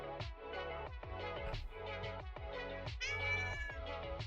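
A house cat meows over and over, loud and close, with insistent, evenly spaced cries following one another without pause for several seconds.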